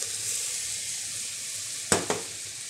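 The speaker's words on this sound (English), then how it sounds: "Stir well to make sure all of the grains are well coated with the fat." Short-grain arborio rice stirred in hot fat in a pan gives a steady, soft sizzle, with two quick scraping clinks of the spoon near the end.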